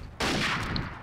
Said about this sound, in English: Oh, he's already firing artillery.